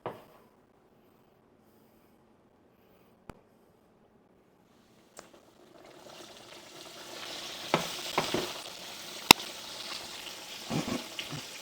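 Battered chicken pieces drop into hot oil and start frying, a steady sizzle rising after a quiet stretch, with occasional sharp clicks and spatters over the bubbling, close and moderately loud.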